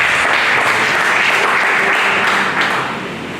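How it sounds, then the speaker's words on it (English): Audience applause for a university vice chancellor at a pre-retirement workshop, a loud dense burst of clapping from a hall crowd that holds steady and then tapers off near the end. "A round of applause for him."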